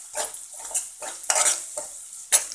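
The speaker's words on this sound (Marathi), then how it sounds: "परतून घ्यायचे." Spices, turmeric and oil stirred and sautéed in a pan for vada chaat: a spoon scrapes and clinks against the pan in repeated strokes over a soft sizzle, with no talk.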